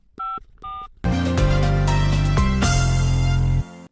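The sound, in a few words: telephone being dialed to phone Anna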